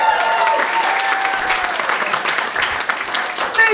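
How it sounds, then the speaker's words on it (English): Steady applause fills a stand-up comedy club, a dense wash of many hands clapping at even loudness for a few seconds with a faint voice tone over it. "I appreciate all that applause"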